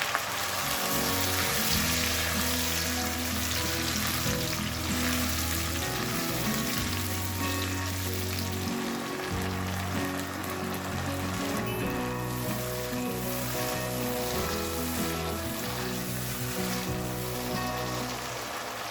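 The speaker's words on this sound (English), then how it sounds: "Now, add the puree of 3 medium-sized fresh tomatoes" Puree of three medium fresh tomatoes sizzles loudly in a pan for chicken changezi, a dense continuous hiss and crackle like heavy rain, close and steady throughout with faint stirring, no talk.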